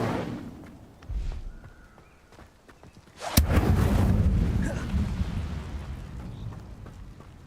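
Incendio fire spell cast in Hogwarts Legacy: a sharp crack, then a loud roaring whoosh of flame that sustains and slowly fades, with softer game sounds before it.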